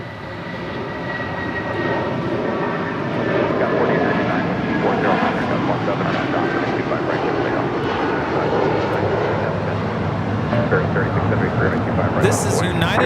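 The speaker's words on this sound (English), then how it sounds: "1400 taking off to Chicago O'Hare on a 757-300" A United Airlines Boeing 757-300 takes off from LAX bound for Chicago O'Hare, its engines a loud sustained roar building and holding throughout, with people talking over it.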